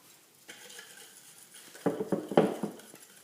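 Spoon or whisk stirring homemade crêpe batter in a bowl, starting softly and then breaking into a quick cluster of louder clinking, scraping strokes near the end.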